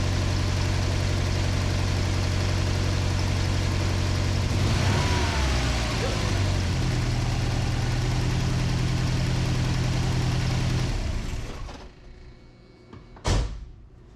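A Shelby GLHS Dodge Charger Turbo 2.2 engine idles steadily with a rough, uneven, misfiring rumble, then cuts off, followed by a single sharp knock in near silence.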